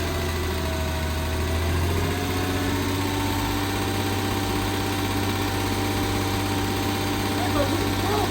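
A freshly rebuilt car engine idles steadily after its first start, a low, even drone with mechanical vibration that holds close and constant throughout.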